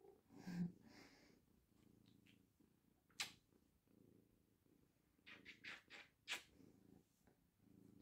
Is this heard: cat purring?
yes